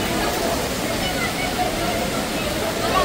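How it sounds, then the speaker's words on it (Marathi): Steady rushing water from small waterfalls beside the Marleshwar temple near Ratnagiri, a continuous close broadband roar with no breaks. "असे खूप छोटे छोटे धबधबे आहेत"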